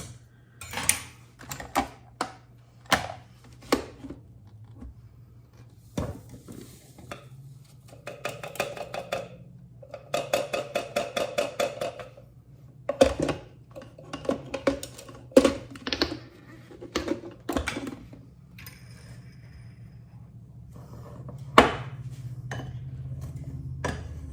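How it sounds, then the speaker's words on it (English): A pastry blender cuts butter into flour in a bowl, sharp metallic clicks and scraping strokes coming in irregular bursts, close and alone. "we're gonna use the old-fashioned pastry blender"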